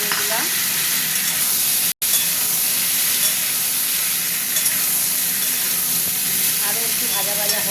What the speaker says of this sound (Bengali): আলুটা অনেকটা ভাজা ভাজা হয়ে গেছে